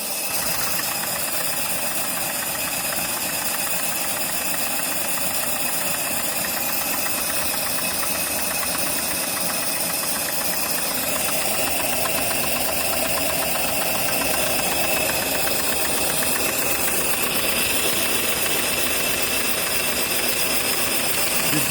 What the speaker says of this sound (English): So this is the first time when the machine is running under pressure.